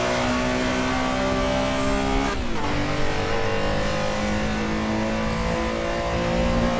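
Race car engine in Assetto Corsa, a loud sustained high rev with a sharp gear change partway through, then climbing again toward the red line while the motor drones on.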